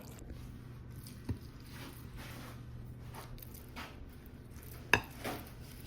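Cheese sauce being stirred into rice and broccoli in a baking dish: soft, wet squishing and scraping with a couple of sharp utensil knocks against the dish, fairly quiet and close, no talking.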